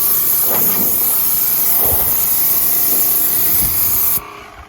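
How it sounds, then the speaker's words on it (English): Several short hissing bursts of Fluid Film aerosol lubricant sprayed onto a Hesston 1120 haybine, close by, with brief pauses between them, ending abruptly. "so I'm gonna spray it down with fluid film"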